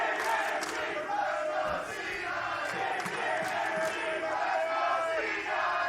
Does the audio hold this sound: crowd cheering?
yes